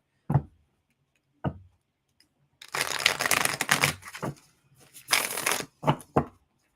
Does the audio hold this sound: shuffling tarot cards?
yes